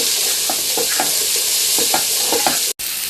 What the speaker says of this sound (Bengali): ভাজা ভাজা হয়ে এসছে